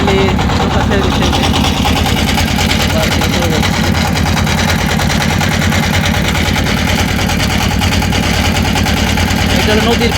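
A river boat's engine runs as the boat pulls away on the Jamuna, a loud, steady, rhythmic chugging that fills the whole stretch, with voices mixed in beneath it.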